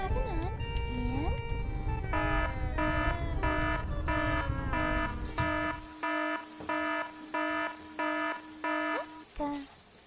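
A fire alarm goes off in a kitchen, loud repeated electronic beeping in an even on-off rhythm after a stretch of steady tones, with background noise early on and no speech.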